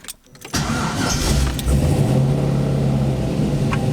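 A car engine cranks briefly and catches, then settles into a loud, steady rumbling idle close by.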